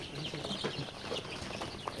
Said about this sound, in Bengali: এটা অরিজিনাল টাইগার মুরগির বাচ্চা।